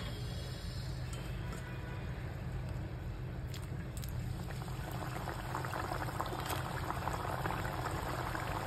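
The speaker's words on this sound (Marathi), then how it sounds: "आता तेल तापल्याने टाकून घेऊया आपण शंकरपाळी." Shankarpali dough pieces fry in hot oil, a continuous bubbling, seething sound close by with faint crackles, steady throughout without talk.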